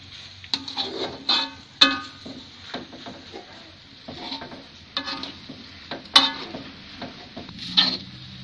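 Stir-fried noodles with sliced celery leaves and scallions are stirred in a pan, giving irregular scraping and clacking strokes over a soft sizzle, close and distinct with no talk.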